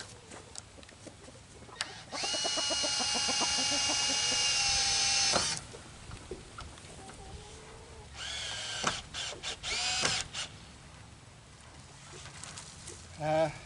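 A power drill or driver runs in two bursts, a steady whine of about three seconds and then a shorter stuttering one, driving a screw into a board, with clunks and handling noise around it.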